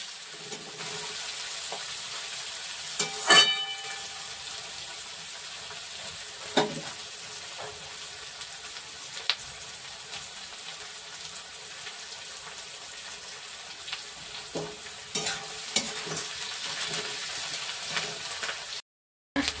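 Onions, about 300 grams, fry in a pan until reddish for a mutton curry, giving a continuous moderate sizzle with occasional sharp clinks and scrapes of a spoon.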